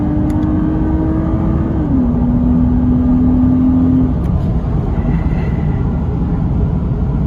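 2006 Lexus IS350 engine held high against the rev limiter, a loud sustained tone that drops slightly in pitch partway through, then falls away into steady road and engine noise.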